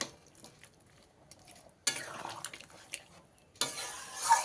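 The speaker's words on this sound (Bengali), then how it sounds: "এবারে এর মধ্যে ভেজে রাখা পটল ও চিংড়ি মাছটা দিয়ে দিতে হবে দিয়ে ভালো করে মিশিয়ে নিতে হবে" A spoon stirs fried potol (pointed gourd) and prawns in a pan of simmering gravy, with scraping and clinking against the metal, faint at first and then louder in bursts, with a soft sizzle underneath.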